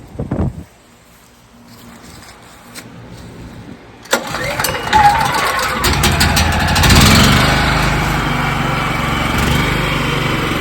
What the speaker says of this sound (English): let's make our attempt to start the engine